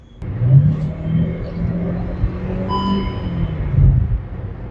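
A car with an IVT transmission accelerates on the highway, its engine a steady, moderate rumble and whir heard from inside the cabin, rising and swelling slightly in two surges.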